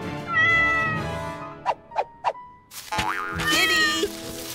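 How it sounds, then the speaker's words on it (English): A cat in a cartoon meows, with a long drawn-out call, then three short bright boing-like pops, then more meowing and higher cries that rise and fall. "sounds like a cat needs help"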